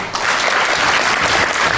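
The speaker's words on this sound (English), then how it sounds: "Please give him a round of applause." Applause for a speaker at an insurance finance association installation ceremony, a dense, even burst of many hands clapping at once, steady and loud throughout.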